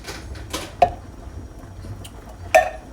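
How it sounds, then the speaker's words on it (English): Stirring a pot of eggplant stew after mackerel fish has been added, with a few sharp clinks of a spoon against the pot standing out over quiet scraping and low background noise. "We're gonna stir it."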